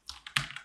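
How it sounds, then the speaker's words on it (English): Quick keystrokes on a computer keyboard: four or five crisp taps in a short uneven burst, close and clear with no talking. "typing more notes in a random spot"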